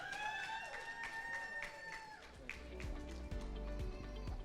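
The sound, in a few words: audience applause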